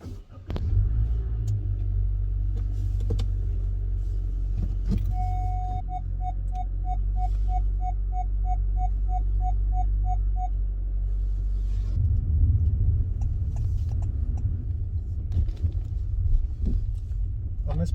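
A 2020 Honda City drives and crosses a speed breaker, heard from inside the cabin as a deep, steady road rumble with a run of soft ticking in the middle and a brief swell near the end.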